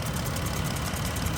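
A 3.6-liter V6 in a white 2021 Jeep Grand Cherokee L Laredo 4x4 runs steadily at idle, a close, even, low mechanical hum with faint knocking texture and nothing else over it.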